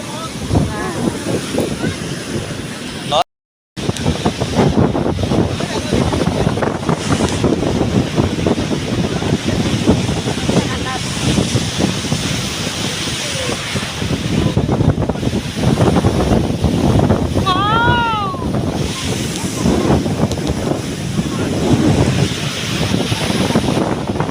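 Sea waves and strong wind at Dhanushkodi beach, a constant roar of surf and gusts buffeting the microphone, with people talking over it.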